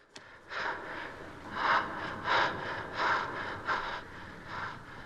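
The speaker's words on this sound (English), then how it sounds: "You can hear him breathing." Heavy, ragged breathing of a character in the 1973 film Westworld, a run of five or six loud gasping breaths at a slow, uneven rhythm, close and alone with no talk.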